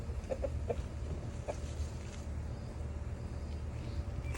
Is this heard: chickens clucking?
yes